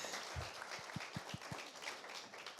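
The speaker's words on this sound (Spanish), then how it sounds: "Un aplauso para Bosco, por favor." Brief scattered clapping from an open house audience at an institute event, a handful of distinct claps close together, fairly faint, then fading out.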